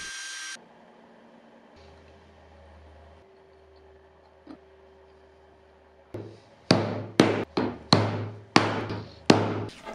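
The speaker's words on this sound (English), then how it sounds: "I just threw them in my drill, tightened it up, and just sanded them nice and shiny" After a quiet stretch, a power drill spins metal furniture feet against sandpaper in repeated short bursts, each spin-up sharp and loud with an abrasive grinding edge, close by.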